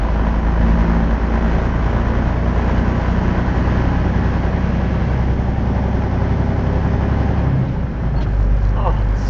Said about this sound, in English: now we're going to shift with the Jake brake off